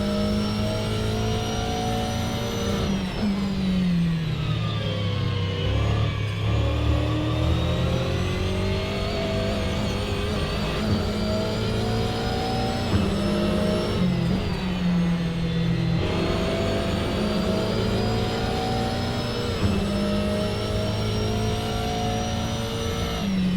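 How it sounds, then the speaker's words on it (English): BMW M4 GT4 race car in the iRacing video game at Laguna Seca, its engine droning loud and steady from onboard with rising and falling revs through gear changes and wastegate chatter, no talking. "Wastegate sound"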